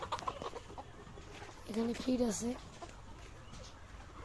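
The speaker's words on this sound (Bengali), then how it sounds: "এখানে আমাদের 2000 মুরগি আছে।" Chickens on a poultry farm housing around two thousand birds give a short burst of clucking calls in the middle, over a busy background and a voice speaking briefly.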